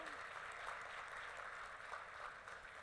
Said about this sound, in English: Un aplauso eso